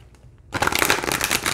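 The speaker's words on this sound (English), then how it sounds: "it shuffles really well" A deck of foil-edged Indigo Angel oracle cards is riffled and shuffled close up, a dense, crisp flurry of card flicks starting abruptly after a brief quiet moment.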